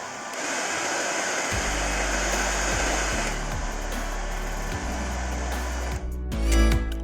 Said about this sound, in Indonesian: Jadi saya gunakan hair dryer untuk melunakkan lemnya.